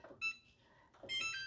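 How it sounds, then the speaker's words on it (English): Electronic oven timer beeping as it is set for a batch of caramel puff corn: two short bursts of high, steady electronic tones about a second apart, fairly close and moderately loud. "I'm going to put a timer on for 15 minutes."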